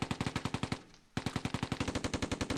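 Rapid machine-gun bursts from a tank's coaxial or bow gun in the WWII strategy game Close Combat II, loud and close, a steady stream of sharp shots broken by a brief pause before firing resumes.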